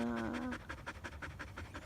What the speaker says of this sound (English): Hello, cute dog.